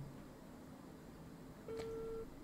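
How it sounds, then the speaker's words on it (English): A telephone being dialed gives a single short electronic tone over a low background hum, faint and brief, with no voices. "he's trying to call."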